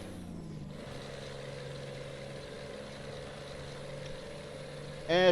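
A truck engine in Euro Truck Simulator 2 idles with a steady low drone, joined near the end by a sharp hiss of an air brake release, all fairly quiet with no talking.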